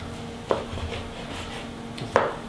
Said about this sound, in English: I'm going to go ahead and chop up my meats here